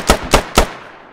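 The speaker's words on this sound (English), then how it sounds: "That's a grenade." Explosive blasts in the military shooter game Squad, three sharp loud booms in quick even succession, each with a short rumbling decay, no voices.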